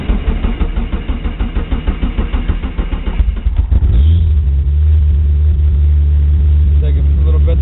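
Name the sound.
Eagle Talon TSi engine cranking and starting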